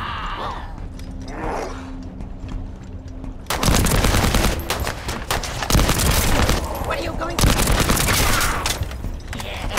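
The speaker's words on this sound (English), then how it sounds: "Bro, this gun sounds so good." Loud gunfire from a weapon in The First Descendant video game, dense rapid bursts that erupt after a quieter ambient stretch and continue in heavy, sustained volleys with brief gaps.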